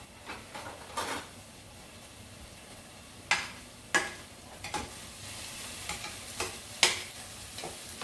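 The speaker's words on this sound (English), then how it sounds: "the onions are cooking" Onions fry over medium heat with a soft continuous sizzle, broken by scattered utensil taps and scrapes against the pan at irregular intervals.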